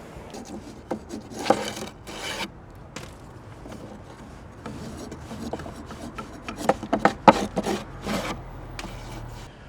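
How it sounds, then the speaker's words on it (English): A straight edge scrapes rotten wood and dirt out of a gutter in irregular rough scratching strokes with knocks and thuds, close, getting busier toward the end, with no talking. "taking this straight edge here and scraping out the rotten wood and dirt is making this look a whole lot more manageable"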